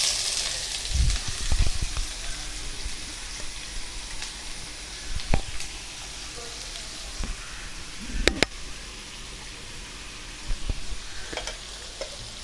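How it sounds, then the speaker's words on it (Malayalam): Chicken and onions frying in a pan with ginger-garlic paste, a steady close sizzle with occasional scraping and stirring knocks throughout, no talking. "നമുക്കിത് നന്നായിട്ട് ഇളക്കി വേവിച്ചെടുക്കാം."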